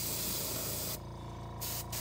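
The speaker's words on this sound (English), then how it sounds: "I'm just going to give it a little bit of a quick coat on the bottom." An airbrush sprays paint onto a fishing popper head in a steady, close hiss that breaks off briefly near the end and resumes in a short burst.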